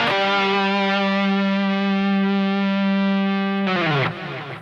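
Distorted electric guitar playing a minor scale lick, holding one long sustained note loud and close before a quick slide at the end, no voices.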